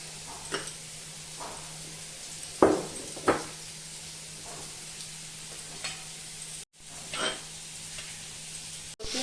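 Chunks of taro root fry in oil in a pan with a steady, soft sizzle, broken by a few louder spatters and stirring scrapes; no one speaks.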